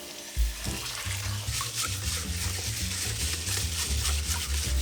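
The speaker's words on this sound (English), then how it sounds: "Make sure to use cold water when you rinse the rice" Cold water running and sloshing over rice as it is rinsed on a stovetop-cooking setup, a steady watery hiss with continuous splashing and swirling throughout, close and moderately loud, no voices.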